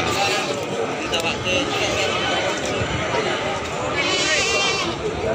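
Goats bleating at a busy Javanese livestock market in Ambarawa, Semarang, several bleats rising over a dense crowd chatter and constant background murmur.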